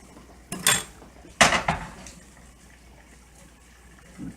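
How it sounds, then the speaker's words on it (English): Pierogi being loaded into a pot of boiling water, with two clattering splashes of dumplings dropping in close by, then a low steady bubble underneath. "I'm trying not to burn myself while I load the boiling pot."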